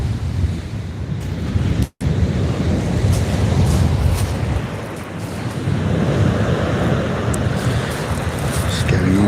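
Strong wind buffets the microphone at sea during kayak fishing, a loud, continuous roar with surf and water noise beneath, briefly cutting out once.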